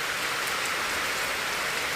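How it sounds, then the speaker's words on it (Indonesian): Light rain falls steadily over a hushed scene in Pamekasan, a soft continuous hiss of drops pattering on surfaces with no pauses and no voices. "dengan ditemani rintik-rintik hujan yang sudah sejak beberapa bulan terakhir tidak turun"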